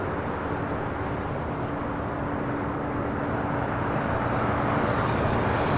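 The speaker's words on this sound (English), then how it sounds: "American Airlines Flight 29 at 22 coming in from Miami. A321neo making that turn on to Alpha." An American Airlines Airbus A321neo arriving from Miami taxis onto a taxiway at Los Angeles airport, its engines giving a steady, moderately loud broadband hum that swells slightly toward the end.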